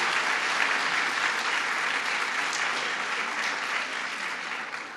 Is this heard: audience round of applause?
yes